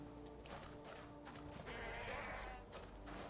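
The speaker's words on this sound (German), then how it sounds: "Oh, Ziegen, die können wir fangen." Goats bleat in the video game Path of Exile, wavering cries set against a dense in-game soundscape, fairly faint and without talk.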